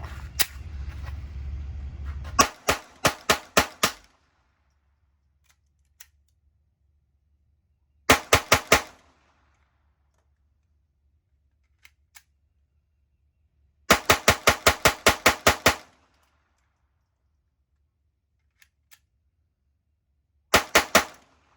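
A Glock G44 pistol firing Remington Thunderbolt .22LR bulk-pack rounds: sharp, close cracks in quick strings of four to eight shots, separated by quiet pauses and a few faint clicks.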